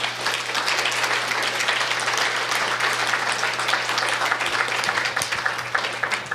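Audience applause at a public talk after a photography slideshow ends, a dense, sustained roar of many hands clapping together at steady volume for over six seconds, with a low steady hum beneath.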